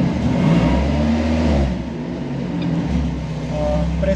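A Jeep with an OHC four-cylinder engine revs up near the microphone, holding a steady loud drone that swells and eases slightly, with no talk over it.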